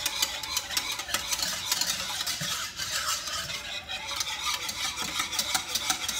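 Coquito mixture is stirred continuously in a pot over medium heat, giving a close, steady scraping and sloshing with frequent light clinks of the spoon against the pot, rhythmic and unbroken, with no talking.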